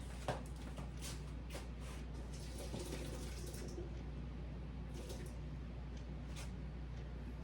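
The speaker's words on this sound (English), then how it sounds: "I'm going to go over here and dump most of this liquid out, but not all of it, because I need some of the liquid" Cooking liquid from cubed squash pours off into a kitchen sink, making a steady splashing, running-water stream with occasional bright spatters throughout, fairly quiet and without speech.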